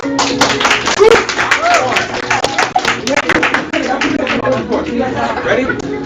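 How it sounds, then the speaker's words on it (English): Audience clapping during a singing lecture, a patchy burst of hand claps mixed with lively chatter and voices speaking over it close by. "Clap for it, quick."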